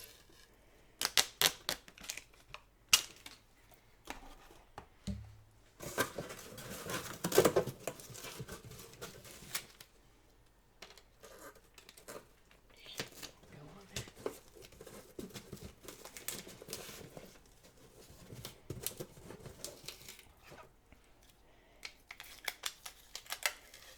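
Paper being folded and creased while a product is wrapped, soft close crinkles, rustles and crisp taps coming in irregular bursts, quiet and intimate with no voice.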